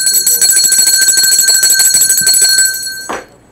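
A bell rings loudly and continuously in rapid repeated strikes for about three seconds, then cuts off abruptly, with only a brief low thump after it.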